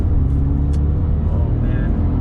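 Audi S5 with a 4.2 V8 and six-speed manual at 100,000 km, engine rumbling low and steady from inside the car for a couple of seconds, with no talk.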